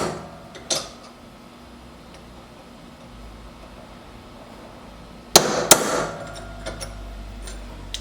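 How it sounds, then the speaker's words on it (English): A hammer drives a cold chisel to chip a small piece of metal between drill holes in a cable Damascus knife guard, a few sharp metallic strikes against a low hum, with a cluster of louder blows near the end. "I'm just going to chip out this little tiny piece of metal in between the drill holes with a cold"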